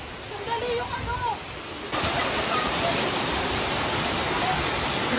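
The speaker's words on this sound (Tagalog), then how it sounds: "Grabe lahat ng ulan." Heavy rain pours down during a typhoon in the Philippines, a dense hiss that turns louder and steadier after a couple of seconds, with voices faintly underneath.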